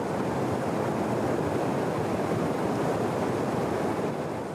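A fast-running river in Guyana rushes steadily, a broad continuous roar of water close by with some wind noise on the microphone.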